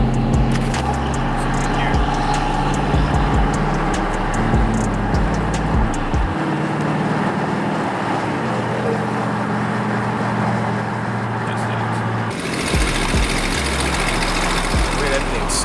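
A tow truck engine rumbles at a nighttime car meet, a loud steady low idle and drone among other running vehicles, with people talking over it throughout.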